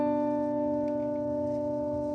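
A guitar swell runs through a tape-setting delay set to quarter notes, forming a long, steady ambient pad. The sustained tones hum quietly and evenly, with faint echoing wisps on top and no speech.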